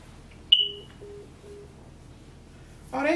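A short phone tone sequence after a call is hung up: a brief high beep followed by three evenly spaced low tones, quiet against near silence, with a louder noisy burst at the end.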